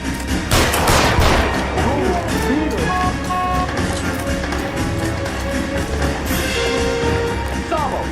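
Gunfire in the L.A. Noire video game, sharp repeated shots in a busy mix with music and a voice shouting over the action.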